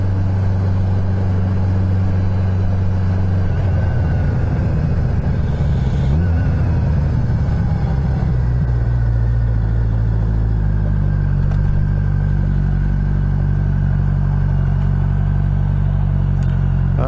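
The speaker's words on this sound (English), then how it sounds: "She sure is idling high this morning" Car engine idling high on a cool morning in the low to mid 50s, a loud, steady low rumble close by that holds constant throughout with a slight dip in pitch partway through, no talking.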